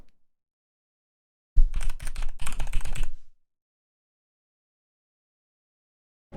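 Burst of rapid typing on a computer keyboard, about two seconds of dense clattering keystrokes close up, with silence before and after.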